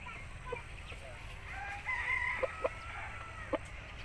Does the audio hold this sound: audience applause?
no